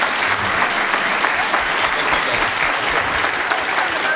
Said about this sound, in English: Let's have another round of applause for all the panelists today.